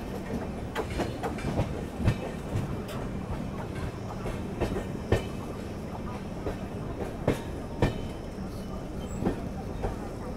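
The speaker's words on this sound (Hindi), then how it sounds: "यहाँ अपनी ट्रेन अभी बल्लारशाह जंक्शन पहुँच रही है।" Telangana Express train pulling into Ballarshah junction, a steady rumble of wheels with intermittent clicking rail joints and louder clacks under faint talk.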